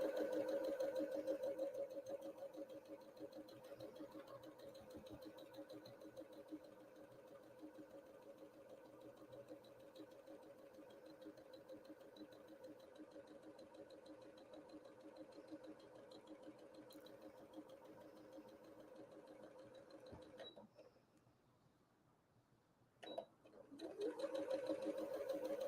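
A domestic sewing machine runs a steady quarter-inch seam on a Peony Star quilt block, a continuous mechanical whir that drops out briefly near the end and then resumes.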